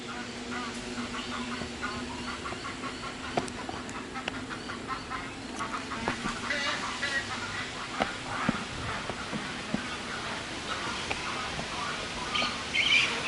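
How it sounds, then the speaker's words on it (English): Park birds, ducks among them, quack and call repeatedly throughout, scattered sharp calls over a steady outdoor background with a low hum. "Can you hear the birds? Aren't they beautiful?"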